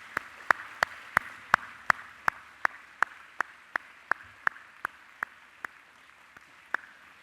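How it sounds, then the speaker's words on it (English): Sparse, slow clapping at a university science, medicine and health graduation ceremony, a dozen or so distinct sharp claps at a steady rhythm that gradually thin out, fairly close and with no talk over them. "giving them a warm round of applause"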